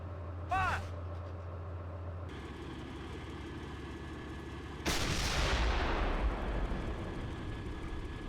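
Weapons fire in the Steel Beasts military simulator game: a loud, broad blast erupts partway through and rolls on over a steady engine hum, after a brief earlier crack.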